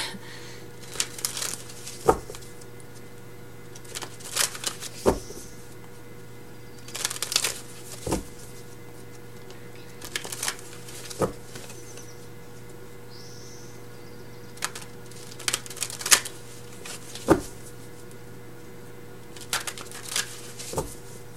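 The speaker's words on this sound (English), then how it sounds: "Sorry if the shuffling's loud." Tarot cards being shuffled in repeated short bursts, a riffling flutter every couple of seconds, fairly close over a low steady hum.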